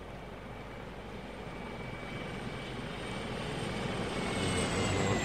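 A steady aircraft engine drone from a flying hunter-killer machine in the game Arma 3, slowly growing louder as it approaches overhead, with a faint high whine rising near the end.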